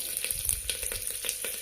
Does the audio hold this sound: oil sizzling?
yes